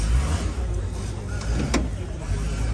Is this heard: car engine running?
yes